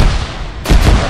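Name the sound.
gunfire in the video game Arma 3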